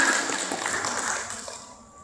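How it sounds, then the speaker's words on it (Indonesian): Applause rises from the audience at a Quran tartil recitation gathering at Pesantren Salsabila in Cigugur: a dense, steady clatter of claps that gradually thins and fades over about two seconds. "Baik, tepuk tangan."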